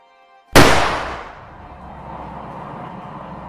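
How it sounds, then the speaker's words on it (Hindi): A single sharp gunshot rings out, loud and close, followed by a long rumbling echo that slowly fades. "दूसरे शिकारी ने बंदूक उठाई और शेरनी पर गोली"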